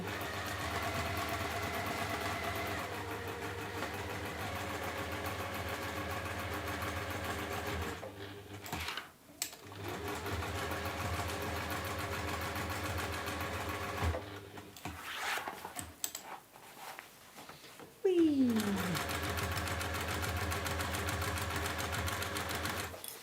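Sewing machine stitching a waxed-fabric market trug, running in long steady bursts of close mechanical whirring and clatter, broken by short pauses and handling noises.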